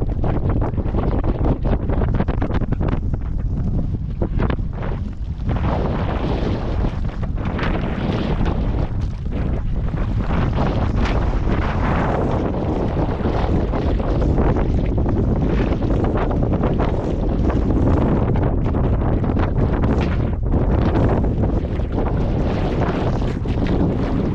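Strong wind batters a small fishing boat out at sea. It roars loudly and without a break against the microphone, with gusty surges throughout and no voices.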